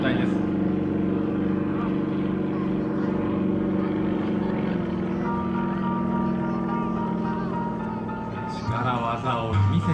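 Jurgis Kairys's aerobatic plane flies inverted at an air show, a steady loud engine drone with shifting harmonics that holds throughout and rises near the end, with an announcer speaking over it.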